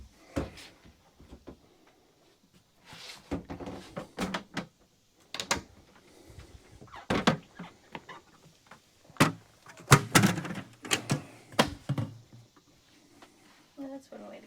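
A truck camper door on a 1994 Lance Squire 4000 thuds shut among several sharp knocks and clatters, close by, with people talking between the impacts.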